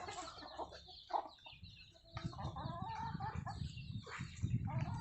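Several free-range domestic chickens cluck and murmur nearby in uneven bursts, with occasional louder squawks over a faint outdoor background.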